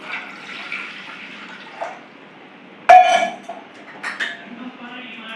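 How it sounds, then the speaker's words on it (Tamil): Water poured into a pressure cooker set on a kitchen stove: a soft steady splashing hiss broken by a few louder sloshes and metallic clatters, heard up close without speech. "தண்ணி ஊற்றிக்கலாம்."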